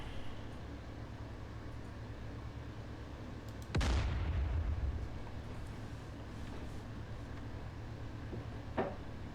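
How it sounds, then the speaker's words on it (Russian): In the DCS Combined Arms combat simulator, a tank's shell fires with a single loud, deep boom that rolls on for about a second over steady engine rumble, followed later by a faint distant pop, with no voices. "А там что-то БТР все взрывается и взрывается"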